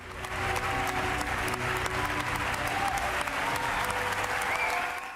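Applause from many people, a continuous even wash of clapping sustained at moderate level with no talk over it.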